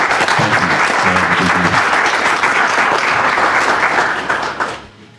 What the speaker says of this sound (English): we have a round of applause for our honor guard